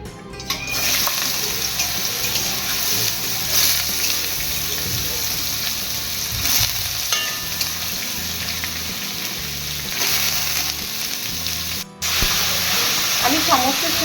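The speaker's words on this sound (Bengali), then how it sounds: "কড়াইয়ের তেলটাও গরম হয়ে গেছে, এবার আমি কুচানো গাজরগুলো প্রথমে ভেজে নেব।" Chopped carrots frying in hot oil in a wok, a loud, dense, continuous sizzle with occasional stirring scrapes, close up, lasting throughout with one brief dip.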